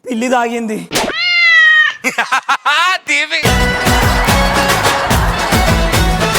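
A cat meows several times up close, including one long drawn-out cry, before music starts and carries on.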